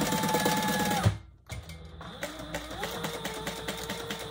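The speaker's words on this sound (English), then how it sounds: "the first inch is 1 seam allowance, and then we'll expand that to a little more" Sewing machine stitching a seam on a crossbody bag, a steady close mechanical whir with a short stop and restart partway through, running alone without talk.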